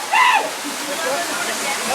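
A waterfall with people swimming in cold water rushes and splashes steadily, while a brief high voice rises over the constant water near the start.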